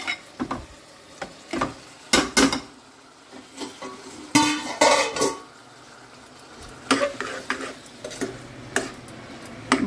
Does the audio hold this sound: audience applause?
no